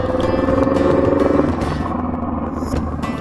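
A motorcycle engine revs hard close to a helmet microphone, a loud rough roar that holds strongly and then eases off slightly, with some wind noise and no talking.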